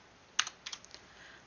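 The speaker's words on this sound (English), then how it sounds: "that takes me a second to type" A computer keyboard is used to type a formula, giving a few quick, faint key clicks in two short bursts and then a pause, with no talk.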